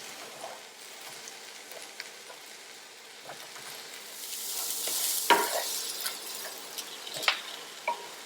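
Hot broth poured into a pan of seafood risotto crackles in a soft, close sizzle that swells in the middle, while a spoon scrapes and stirs in scattered light clicks and taps.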